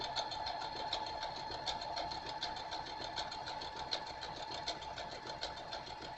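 A sewing machine runs a blanket stitch for raw-edge appliqué with a steady, rapid mechanical whirr and rhythmic ticking needle strokes. The sound is close, even and unbroken, with no talking.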